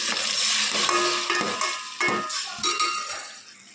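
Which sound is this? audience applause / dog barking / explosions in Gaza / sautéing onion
sautéing onion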